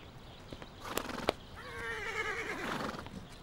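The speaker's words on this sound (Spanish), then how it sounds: "Selchuk, es un caballo salvaje." A wild horse neighs in a long, loud, quavering whinny up close, after a couple of sharp thumps and some hoof movement.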